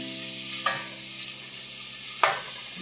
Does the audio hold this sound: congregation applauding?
no